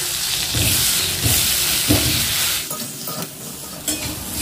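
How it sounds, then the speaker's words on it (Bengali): Steamed elephant foot yam pieces go into hot oil left from frying prawns, setting off a loud, close, hissing sizzle that eases after a couple of seconds, with light stirring knocks. "এই তেলের মধ্যে এবার আমি দিয়ে দেব ভাপানো ওলগুলো।"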